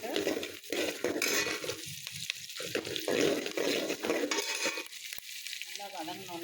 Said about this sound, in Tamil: இப்போ வெங்காயமும் பூண்டும் நல்லா வதக்கிக்கிறோம்.